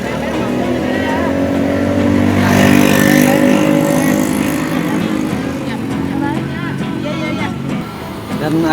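An ANS intercity bus on the Padang to Jakarta route pulls out of the TBS terminal with a loud, steady diesel engine drone that swells as it moves off, and voices are heard faintly around it.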